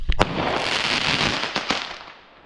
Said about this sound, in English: One great big ball gets splat up right in the air, and a huge boom with lots of sparkles, crackles and colour.